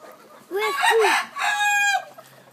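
A Black Jap Asil Peru gamefowl rooster crows loud and close: two rising-falling calls and then a longer drawn-out crow, with nobody speaking.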